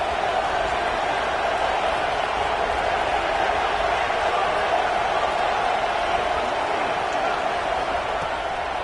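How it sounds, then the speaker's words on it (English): Constant roar of a stadium crowd in a Madden football video game, a dense, even wall of cheering noise on third down that stays level throughout. "The crowd electric trying to help Tech on this 3rd down"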